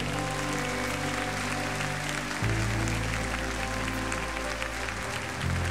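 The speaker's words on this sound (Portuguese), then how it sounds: "Você pode aplaudir ao Senhor?" A congregation applauds during a Sunday morning church service, a steady wash of clapping over sustained, held musical tones that shift pitch partway through.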